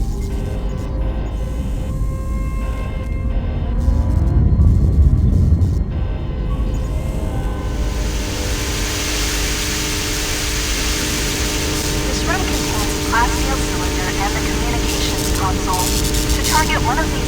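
Steady low engine drone filling a starship cockpit in Knights of the Old Republic 2, a continuous broadband hum with a brief louder swell early on and faint electronic interface tones layered over it.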